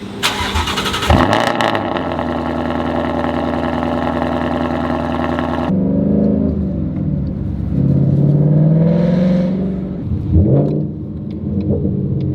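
A Ford Mustang engine fires up loudly and runs with a steady rumbling idle. The pitch then shifts as the car pulls away and moves off, with a brief rev near the end.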